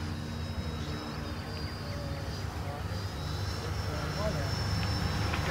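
An Arrows RC Marlin 64mm electric ducted fan jet model in flight, its steady whine and rushing roar continuous and fairly distant, mixed with outdoor wind noise.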